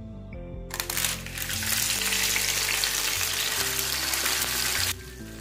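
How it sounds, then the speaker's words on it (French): Fish and chicken hit hot oil in a parchment-lined saucepan and sizzle loudly, a steady crackling hiss that holds for several seconds before cutting off abruptly, with a low hum underneath. "je vais les faire frire dans ma casserole que j'ai mis une feuille de papier sulfurisé et un peu d'huile"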